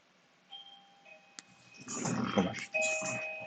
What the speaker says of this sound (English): to go answer the doorbell